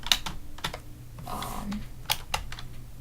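A computer keyboard keypad is tapped in scattered sharp clicks, a few spaced keystrokes close to the microphone over a low steady background hum.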